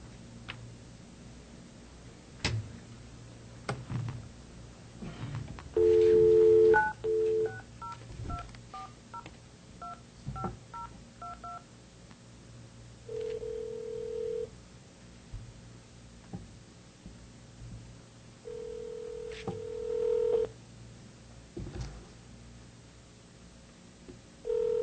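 Telephone keypad tones dial a board member into a governing board meeting: a quick run of touch-tone beeps, then longer repeated ringback tones, over a quiet room hum with no talking.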